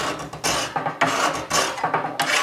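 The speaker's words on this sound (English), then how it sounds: "It's shaving off pieces of steel incredibly quickly." A hand tool shaving steel from the bevel of a Japanese sword, heard as close, loud rasping strokes repeating about every half second in a steady scraping rhythm.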